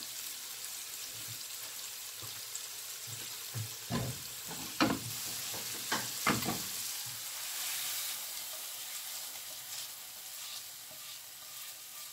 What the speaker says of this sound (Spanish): Vamos ahí a revolver.